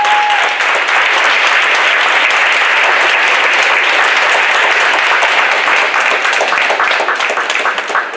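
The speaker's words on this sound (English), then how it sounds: "Can we please give Dr. Street another round of applause for those words?" Sustained applause from an audience honoring a speaker at a fatherhood awards ceremony, a dense, loud wash of many hands clapping steadily throughout with no break.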